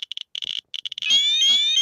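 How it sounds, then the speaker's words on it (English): A Geiger counter near a radioactive ionic healing wand pen gives a few quick clicks, then its radiation alarm sounds as a loud, steady electronic warble that continues to the end. "that's the alarm going off because the radiation levels off this device."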